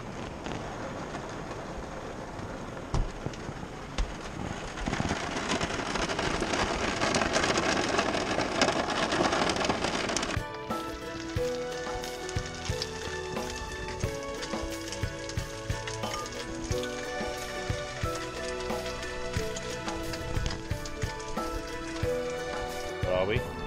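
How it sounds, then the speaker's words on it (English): Rain drumming on the roof of a camper van parked near Cheddar Gorge in the UK, a dense constant patter that continues throughout, with a brief voice over it and later music layered in. "Listen to that rain."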